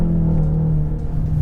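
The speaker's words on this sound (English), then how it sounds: "This is the sound of the full-cylinder turbo engine." A Ford Mustang EcoBoost turbocharged four-cylinder engine drones steadily under acceleration with a low, constant hum and a strong tonal pitch, held throughout, close to the listener.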